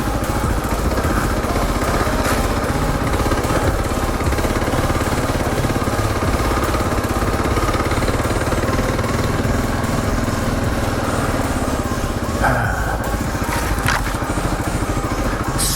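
A Kawasaki KLR 650 dual sport motorcycle engine drones steadily and close up on an overgrown forest trail, loud and continuous throughout, with slight shifts in pitch as the clutch is worked in and out.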